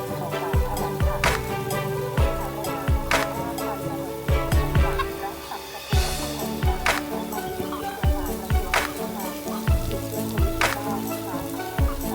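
Chickens in a hot poultry house cluck and squawk continuously, with many overlapping birds. Busy clattering and scratching sounds fill the space, loud and dense throughout.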